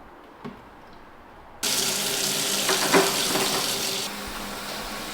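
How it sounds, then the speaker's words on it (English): After a quiet moment with a small knock, a tap turns on and water gushes steadily into a sink to dilute a cleaning spray, splashing close by for several seconds. "it needs to be diluted with a bit of water, so I'm going to do that now"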